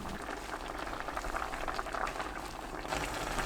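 Braised tofu with scallion, green chili and enoki mushrooms boiling uncovered over high heat, a continuous close bubbling and hissing with no break.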